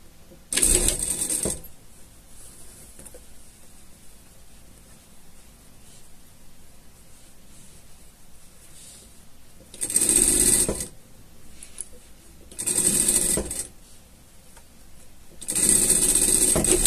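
Sewing machine stitching the lining of a women's PET vest, running in four loud bursts of steady whirring separated by quiet pauses, with no talk.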